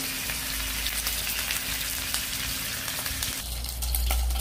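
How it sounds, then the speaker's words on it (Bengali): A large rohu fish head fries in hot oil, giving a continuous close hiss and crackle that shifts in tone near the end, with no voices. "বড় বড় একটা রুই মাছের মাথা নিয়েছি, আমি এটাকে ভেজে নিব।"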